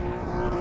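A BMW E36 drift car with a cut exhaust bouncing off its rev limiter, a loud, close, sustained raspy engine drone with a fast stuttering pulse.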